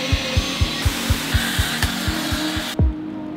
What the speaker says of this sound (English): Right now, what I'm doing is I'm clay barring it.